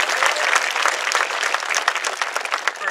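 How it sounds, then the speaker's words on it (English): A graduation ceremony crowd gives the newly honored young mayor a round of applause, a dense, steady patter of many hands clapping at once, heard close and loud for a few seconds. "Let's give him a round of applause"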